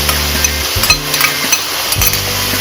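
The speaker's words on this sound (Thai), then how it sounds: "ผัดเลยนะคะ" Surf clams are stir-fried in a hot pan with roasted chili paste, pounded chili and garlic and seasoning sauce, giving a loud, close, steady sizzle with rhythmic scraping and clinks of the spatula against the pan, no voices.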